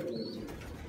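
Pigeons coo softly in a pigeon loft, a low steady murmur of cooing filling the moment with no talk.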